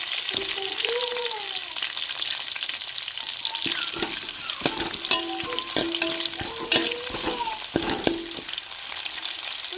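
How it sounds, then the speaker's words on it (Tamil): Onions and green chilies with curry leaves sauté in a frying pan, a loud, dense sizzle with frequent spoon scrapes and clatters throughout, while faint voices sound in the background. "வெங்காயம் பச்சை மிளகாலாம் வதங்கி வந்துருச்சு."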